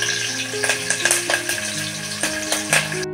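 Green chilies and curry leaves sizzle and crackle in hot oil in a pressure cooker, a steady close frying hiss with scattered sharp pops and light utensil clinks.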